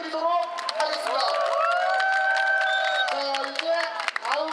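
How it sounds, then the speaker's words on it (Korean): A crowd at a Korean political rally cheering and clapping, with loud shouting voices over rapid clapping, close and sustained. "다시 한번 저희 변희재 대표님께 큰 박수 부탁드리도록 하겠습니다"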